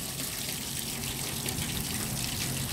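Running water pours steadily over a piece being rinsed clean of silicone and soap, a continuous close splashing and trickling rush under a sink tap with no talk.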